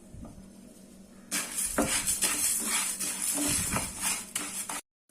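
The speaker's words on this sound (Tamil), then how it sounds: "இப்போ 1 கப்பு போட்டு வறுத்துக்கலாம்" Split black urad dal roasting in a pan, one cup being stirred: steady dry rattling and scraping of lentils against metal with clinks of a spoon, close and continuous, then abruptly stopping.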